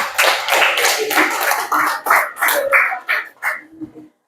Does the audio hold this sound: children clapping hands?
yes